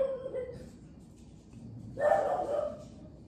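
A French bulldog barks and yips indoors, a short close burst near the end after quieter whimpery sounds, with no talk over it.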